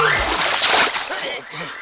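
Water poured over a person in a quick splash and splatter lasting about a second, close and fairly loud, with voices around it.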